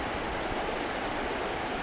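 The James River in Richmond, Virginia rushes steadily, a dense even hiss of flowing water heard close and alone.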